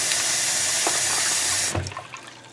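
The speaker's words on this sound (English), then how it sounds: "You want to put the cold water until it fills all the way up to the top." Cold water runs steadily from a kitchen tap into a bowl being filled for an ice bath. The flow is loud and continuous, then cuts off near the end, leaving a few soft drips and clinks.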